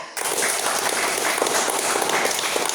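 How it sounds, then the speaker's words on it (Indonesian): A classroom of students applauds for the third group after their presentation, a dense steady wash of many hands clapping that starts abruptly and holds at an even level to the end. "kita tepuk tangan buat kelompok 3"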